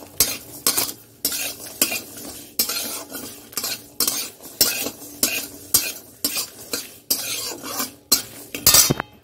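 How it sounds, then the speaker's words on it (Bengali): Garlic and green chilies dry-roasting in a wok, stirred with a metal utensil in steady repeated scrapes and clatters over a faint sizzle, close and fairly loud with no talking. "কড়াইতে শুকনো খোলায় ভাজবো এগুলো"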